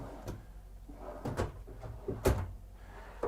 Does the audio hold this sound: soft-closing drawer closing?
yes